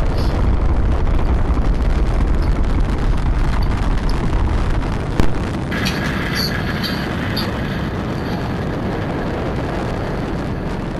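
Rocket launch taking off in Fortnite, a loud continuous deep rumbling roar with a sharp burst midway, then sustained thunder with high whistling tones layered on top.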